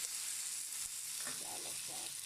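Marinated chicken for Chinese honey chicken fries in a hot, oiled pan, producing a bright, continuous sizzling hiss that stays loud and steady, with a faint stir or murmur toward the end.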